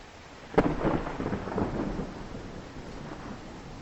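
Thunder follows a lightning bolt during a rainstorm over a moor: a sharp crack, then a rolling rumble that fades over a few seconds while rain hisses steadily underneath.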